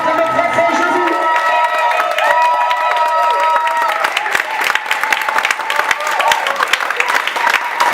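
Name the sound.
congregation applauding and cheering in church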